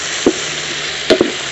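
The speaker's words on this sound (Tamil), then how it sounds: "இந்த மசாலாலாம் நல்லா வதங்கட்டுங்க." Masala with curry leaves and crushed green chilli sautés in hot oil in a pan for dry pepper chicken, giving a soft steady sizzle and a few scraping stirs of a spoon, close by and without speech.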